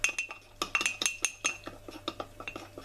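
A teaspoon clinks and scrapes against a bowl while gelatine is stirred in for a blueberry mousse, a quick run of bright metallic taps close by, fading slightly toward the end.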